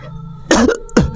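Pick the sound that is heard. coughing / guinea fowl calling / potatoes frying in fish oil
coughing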